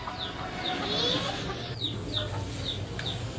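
Layer hens cluck and chirp nearby, a run of short repeated calls over low background murmur and faint movement.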